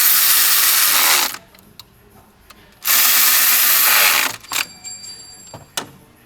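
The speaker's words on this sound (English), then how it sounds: "Tightening the high pressure fuel line" Power tool tightening the high pressure fuel line on a 2010 Volkswagen Tiguan: two loud, close whirring and ratcheting bursts of about a second each, followed by shorter clicks and clanks of the tool being handled.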